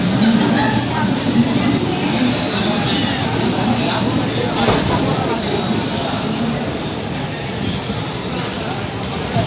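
At Mahabubabad station, a train's wheels squeal loudly and continuously against the rails, a close metallic screech over a rumbling carriage that fades slightly toward the end.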